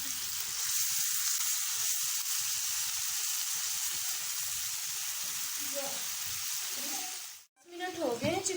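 Chicken leg pieces frying covered on a low flame give a constant soft sizzle and hiss, with a brief lid or pan clatter near the end.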